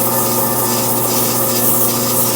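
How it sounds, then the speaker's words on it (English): A wooden snowman top hat being sanded on a belt sander gives a steady, loud, continuous abrasive rubbing hiss with a constant motor hum underneath, heard alone. "I'll finish up both ends with the by sanding it on the belt sander for the top hat"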